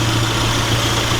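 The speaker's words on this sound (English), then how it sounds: "the engine's been running for about 5 to 10 minutes now on the ramps" A classic Mini Sprite 1275cc engine idles steadily on ramps after several minutes of running, giving a constant low rumble with a dense, even vibration and no voices over it.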